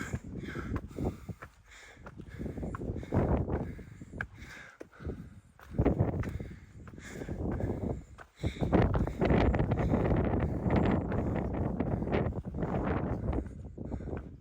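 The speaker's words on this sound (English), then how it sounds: "A little windy" Gusty wind buffets the microphone in steady low roaring surges on Mt. Hor in Petra, rising and falling loudly throughout, with brief lulls in between.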